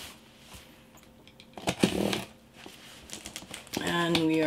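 A cardboard accessory box for a Dollfie Dream doll is cut open, with scraping, slicing and crinkling sounds close by in short bursts, and a voice speaking toward the end.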